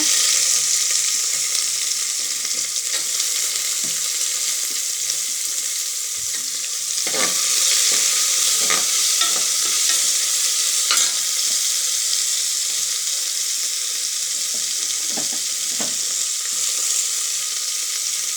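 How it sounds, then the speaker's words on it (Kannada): Onions fry in a pan with a continuous loud hiss and sizzle, punctuated by occasional scraping stirs and crackles, close and steady throughout without speech. "ಈಗ ಈರುಳ್ಳಿ ಹಾಕಿ ಫ್ರೈ ಮಾಡೋಣ"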